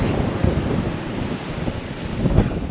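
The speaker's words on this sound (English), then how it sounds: "it's not cold, it's just bloody very windy" Strong wind buffets the microphone in a loud, continuous roar with gusty thumps, and surf rumbling faintly underneath, on the shore at Tunstall on England's east coast.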